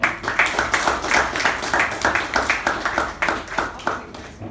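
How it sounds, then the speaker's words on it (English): A Toastmasters meeting audience claps to welcome a speaker, with loud, close hand claps falling in a quick, fairly regular rhythm that holds for several seconds before easing slightly at the end. "with a huge round of applause"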